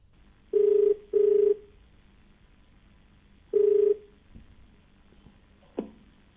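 A phone line rings out as a TV call-in show dials a viewer: two short electronic ring tones close together, a pause, a third tone, then a faint click and low line noise.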